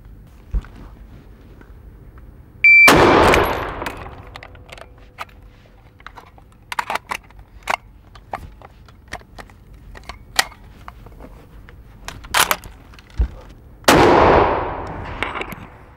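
A Lee-Enfield rifle handled and reloaded with a magazine: two loud, sharp gunshots with decaying echoes, about eleven seconds apart, separated by scattered close metallic clicks and clacks of bolt and magazine handling.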